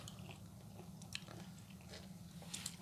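Crunchy raw apple snail meat is chewed and bitten close to the mouth, giving scattered crisp crunches and soft wet chews over a steady low hum, with no talking.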